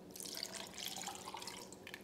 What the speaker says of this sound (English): I'm gonna add around like 8 ounces of almond milk.